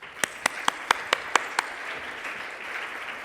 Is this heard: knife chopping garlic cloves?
no